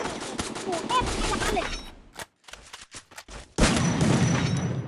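Gunfire in the Free Fire video game: rapid bursts of shots in the first half, a sparse stretch of single sharp cracks, then a dense, loud volley resuming, with fast clicking mechanical detail throughout.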